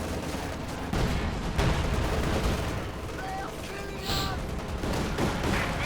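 Field gun barrage in the Company of Heroes 2 video game, a continuous rumble of artillery and gunfire with a sharp burst near the middle, while a commentator talks over it.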